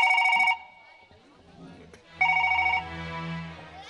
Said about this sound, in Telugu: స్వాతికి ఫోన్ చేస్తాను.